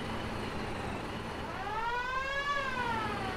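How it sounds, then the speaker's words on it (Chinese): In the video game Foxhole, a siren rises and falls in a wailing sweep over a steady background rumble, moderately loud and heard alone without speech. "不要再玩警笛了。"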